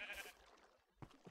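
Sheep bleating in the Minecraft video game, a few short bleats with the clearest pair near the end, fairly faint and heard alone without talk.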